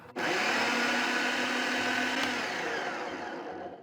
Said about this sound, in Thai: แล้วเราก็จะปั่นผงผัดข้าวของเราให้ละเอียดได้เลยนะครับ